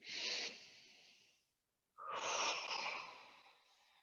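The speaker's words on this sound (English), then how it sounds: "One more deep breath in and out" A person in a ball Pilates class takes a deep breath in, pauses in silence, then lets out a long, airy exhale; both breaths are close, soft and hissing.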